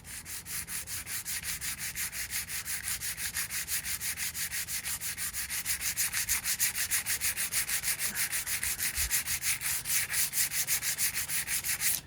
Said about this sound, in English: Now let's see if we can sand that out.